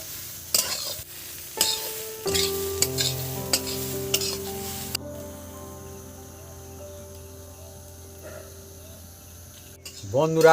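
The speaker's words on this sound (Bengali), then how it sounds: "এবার আমি কিছুক্ষণ নেড়ে চেড়ে নেবো" Semolina upma being stirred in a pan, with a series of sharp spoon taps and scrapes early on, then a gentle sizzle under background music and a person talking.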